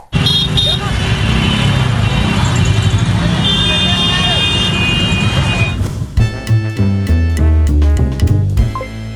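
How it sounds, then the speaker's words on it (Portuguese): Busy Indian street traffic with a deafening chorus of car horns, loud rumbling engines and repeated honking that grows sharper and more insistent in the final seconds. "E é um barulho ensurdecedor de buzina."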